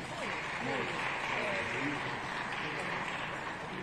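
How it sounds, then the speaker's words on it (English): Steady applause from a conference audience at the official opening of an African food systems forum, a broad even wash of clapping with faint murmuring voices underneath. "A round of applause, please."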